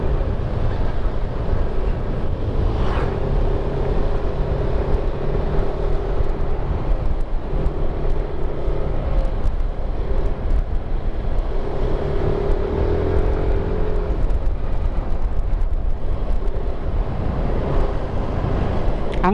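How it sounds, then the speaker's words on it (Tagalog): Private vehicles pass along a bypass road, giving a steady, loud rumble of traffic with rising and fading engine noise and wind buffeting the microphone throughout. "pansin nyo po may mga dumadaan na mga private vehicle dito"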